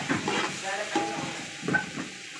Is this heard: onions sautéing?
yes